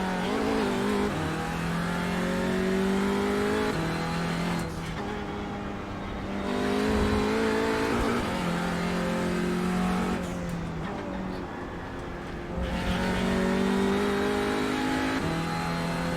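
An Audi or Porsche race car in the iRacing sim roars steadily at high revs, its engine note climbing through gears with brief dips on two shifts, loud and continuous with no talking.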